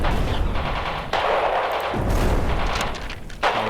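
Dense battlefield gunfire in the strategy game Radio General: rapid machine-gun bursts and rifle shots layered with booming artillery, loud and continuous throughout with sharp shifts in intensity and no talking.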